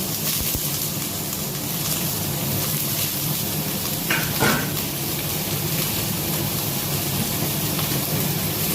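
Potatoes dropped into a hot pan with oil and chopped green chillies while making egg bhurji masala patishapta, giving a steady close broadband sizzle and fry throughout, with a brief clatter midway.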